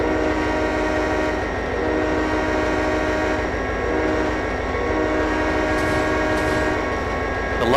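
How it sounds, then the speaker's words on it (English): A diesel locomotive horn in Trainz 2010, sounding loud and sustained for several seconds over a low rumbling engine drone, with faint rail clatter beneath. "The horn going here."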